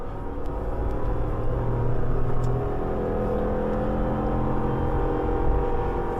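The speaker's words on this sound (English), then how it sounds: "Listen to this engine." A Lexus GX460 V8 engine revving uphill in second gear gives a steady, loud low rumble and whir that holds at high revs throughout, heard from inside the vehicle with no talking.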